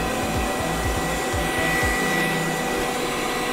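A robot floor vacuum cleaner runs in its strong cleaning mode, producing a loud, steady motor whine and airflow with a few quick pulsing chirps near the start.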